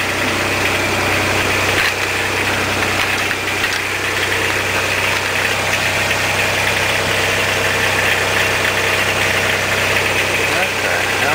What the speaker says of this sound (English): She runs pretty quiet for a diesel.